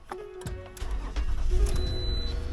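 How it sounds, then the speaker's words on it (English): A Toyota RAV4 engine starting with a new key: a short starter crank, then the engine catching and settling into a steady idle, close and fairly loud with no talk. "That's a new key here, and we're gonna see if the car starts"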